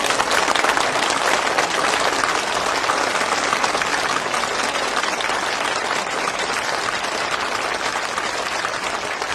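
A crowd applauds steadily and loudly for several seconds at a Christian church gathering, the dense clapping continuous throughout with no speech over it.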